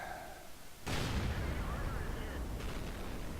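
A tank gun from a World of Tanks match fires once, a sudden loud blast followed by a rumbling decay and a fainter second report amid game noise.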